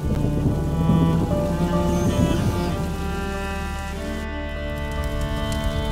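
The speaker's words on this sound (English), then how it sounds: "would you mind if we get out of the rain, please?" Steady rain falls in the video game A Plague Tale: Innocence, a soft continuous wash heard alone under sustained background music, with a faint rumble early on.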